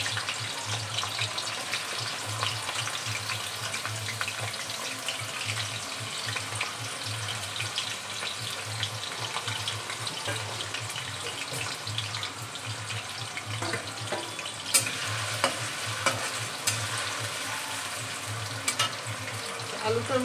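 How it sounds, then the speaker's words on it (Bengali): Small chopped potatoes fry in hot oil for a mutton keema curry, a steady soft sizzle and hiss with faint clinks, heard at moderate distance. "আলুটা আগে আমি ভেজে তুলে নেব। আলুটা লাল করে ভেজে তুলে নেব।"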